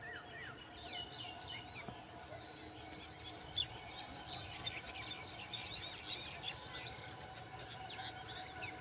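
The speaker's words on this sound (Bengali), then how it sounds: "দেখুন শালিক পাখি এবং বিভিন্ন পাখির আওয়াজ" Common mynas and other birds call faintly in a dahlia flower garden in Bandar, Narayanganj, with scattered chirps and squeaky notes over soft outdoor background noise.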